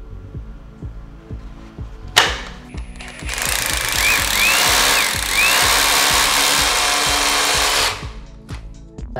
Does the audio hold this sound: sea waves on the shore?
no